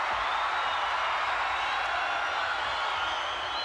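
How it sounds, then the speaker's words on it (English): A capacity crowd at a wrestling arena roars steadily as a dense, loud wash of noise that holds unbroken for several seconds. "Listen to this capacity crowd"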